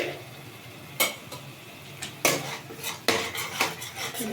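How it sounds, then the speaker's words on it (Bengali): Salt, turmeric and cumin are mixed in a pan with a metal utensil for a tangra fish dish, with sharp clinks and scrapes every second or so over a soft background. "ভালো করে এটাকে মিশিয়ে নেব"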